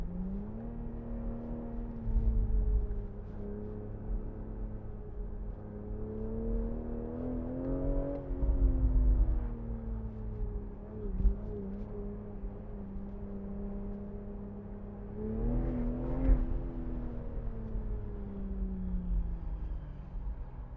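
A 2019 BMW Z4 M40i accelerating along a twisty road, its engine note rising and falling through steady cabin drone with brief surges in revs and no talk over it.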